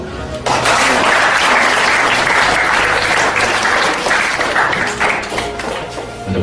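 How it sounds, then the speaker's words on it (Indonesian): A school reunion audience breaks into loud, sustained applause, many hands clapping together for several seconds before slowly tapering off. "Tepuk tangan."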